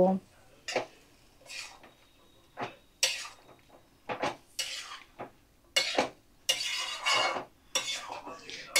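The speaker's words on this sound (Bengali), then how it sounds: "দিয়ে ভালো করে নাড়াচাড়া করে আমি চাপা দিয়ে কিছুক্ষণ রান্নাটা হতে দেব।" A spoon scrapes and clinks against a pot of bottle gourd curry in short separate bursts, followed by a clatter as the lid is set on, with a person talking between the sounds.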